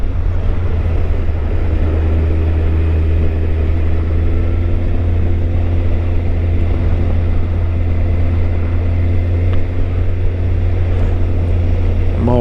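A Honda motorcycle engine runs steadily while riding through freezing Brussels streets at night, a loud continuous low drone with wind rush and no breaks.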